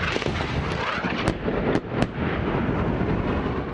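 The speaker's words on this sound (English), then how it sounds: "There's incoming fire right now." Incoming gunfire during a firefight in Afghanistan, a dense continuous roar of distant shots and blasts with a few sharper cracks standing out, loud and sustained throughout.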